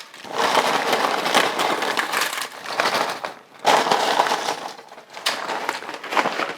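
Potato chips poured from a bag into a dish, a continuous loud crisp rattling and crunching with a brief pause midway before the pour resumes, close by.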